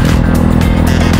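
Steady low motorcycle engine drone while riding, continuous and loud with a constant rumble and faint clatter, no talk over it.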